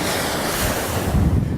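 Ocean waves roar in a steady, loud rush of surf, with strong wind buffeting the microphone throughout and no voices.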